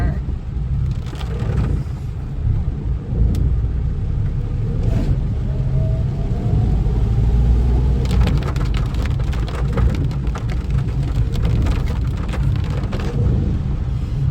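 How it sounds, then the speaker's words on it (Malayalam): Heavy rain pours down outdoors with a loud, steady hiss of drops striking surfaces. A faint rumble of passing traffic sits underneath and brief scattered spatters break through. "എന്തിന് നല്ല മഴ."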